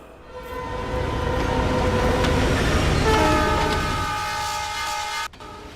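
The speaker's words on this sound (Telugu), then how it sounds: "అలల శబ్దంతో పాటు రైలు శబ్దం కూడా వినపడుతోంది" A train rolls past near a beach, its steady loud rumble and rattling wagons building and holding for several seconds with long horn-like tones, then cutting off abruptly near the end.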